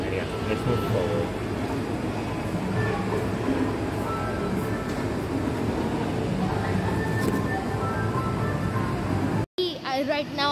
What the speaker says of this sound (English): Right now we are sitting in the train